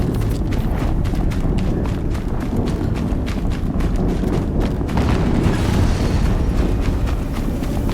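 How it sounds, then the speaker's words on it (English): Explosions in the video game Horizon Zero Dawn boom repeatedly in a dense, rumbling barrage with sharp impacts scattered across the stretch, loud and continuous with no speech. "Another explosion."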